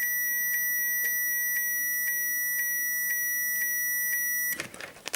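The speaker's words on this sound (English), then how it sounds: "My meter's beeping across that." A multimeter in continuity mode emits a steady series of short, evenly spaced, clear electronic beeps while probing a short-circuited capacitor on a monitor's backlight board, then stops amid handling noise.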